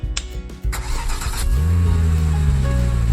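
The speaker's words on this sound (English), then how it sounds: "First, start your vehicle." A car engine cranks briefly after some clicks and handling noise, then catches and settles into a steady, loud idle close by.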